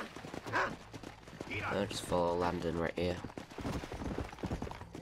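Horse hooves clip-clop in Red Dead Redemption on Xbox 360 as a black horse is ridden, a quick irregular patter under ongoing talk and game voices.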